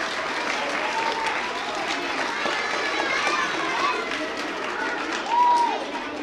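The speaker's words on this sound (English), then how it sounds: "Let's give them a big round of applause" Audience applause at a school performance of How the Grinch Stole Christmas, a steady wash of clapping from a crowd with murmured voices and a brief cheer near the end.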